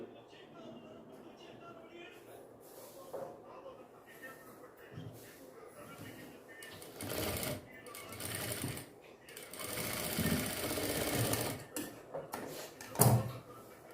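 A sewing machine runs in short bursts while stitching a small doll dress, with a longer run of stitching near the end, under someone speaking throughout.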